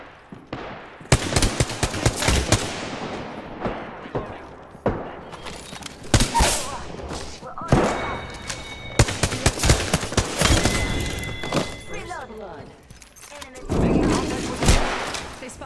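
Bursts of automatic gunfire and single shots crack through an Apex Legends firefight, loud and close, with repeated volleys over about fifteen seconds while players talk over the shooting.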